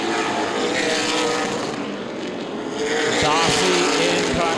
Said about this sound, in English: JP Crabtree, car on the move, the 83, trying out that 2nd lane